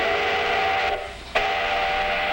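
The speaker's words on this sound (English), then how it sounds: "That's an ore train, a symbol of a great Minnesota industry." Iron ore train in Minnesota mining country sounding its whistle, a steady tonal blast over rumbling rail noise, fairly loud and alone, with a brief break midway before it resumes.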